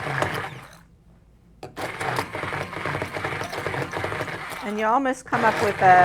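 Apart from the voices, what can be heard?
handheld blender blending tofu mixture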